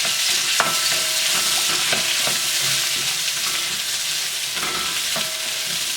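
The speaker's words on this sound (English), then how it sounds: "first we want to take the rest of our oil, put it into the wok. And we're going to throw our vegetables in there to cook those" Onions and peppers frying in oil in a wok, a loud steady sizzle with occasional clinks and scrapes of stirring, no talk.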